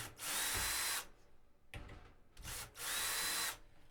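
A power drill backs screws out of a snare drum shell in two long whirring bursts separated by a quieter pause with light handling and a short buzz, all close and loud.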